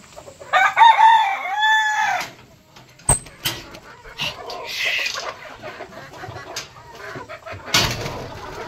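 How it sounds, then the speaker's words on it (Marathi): Pure desi village chickens and Kaveri hens on a Konkan poultry farm, with a rooster crowing loudly up close, then scattered clucks and calls from the flock, no voices. "ही आपली सगळी कोंबडी आहेत, प्युअर गावठी आहेत"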